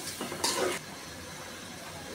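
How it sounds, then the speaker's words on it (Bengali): Soaked, drained pulao rice stir-fried in a pot with whole spices, including cinnamon, for a pulao and meat dish: a short burst of scraping and sizzling that settles into a faint, steady frying hiss. "এখন আমি চাউলটা ভালো করে কষিয়ে নিব।"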